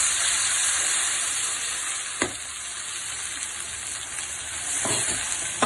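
Ground masala paste fries in a pan with oil and bay leaf, giving a steady bright sizzle throughout, with a few soft clinks of a spoon against the pan.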